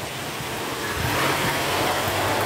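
Rain easing off outdoors on a commute home from work, a steady broadband hiss of falling rain without voices.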